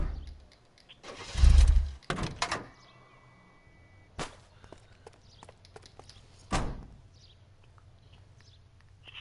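A vehicle engine cranks and starts with a loud burst of sputtering turnover, then settles into quieter idling broken by scattered clunks and knocks nearby.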